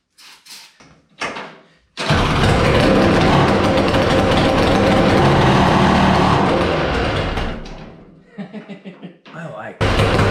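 1200R mini jet boat engine cranking over and catching, roaring loudly and steadily for about six seconds before dropping off into sputters, with someone talking around it.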